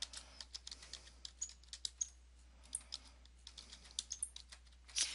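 Fingers typing on a computer keyboard, a quick irregular run of close, crisp key clicks in an otherwise quiet room.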